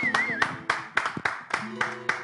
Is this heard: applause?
yes